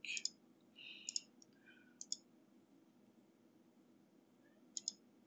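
Computer mouse clicks in quick pairs while shift-clicking items in a game inventory, several sharp close clicks spaced over a few seconds against a quiet room hum.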